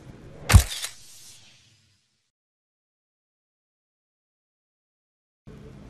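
A single sharp camera shutter click snaps near the start as a selfie is taken, followed by a short fading rustle, then near silence.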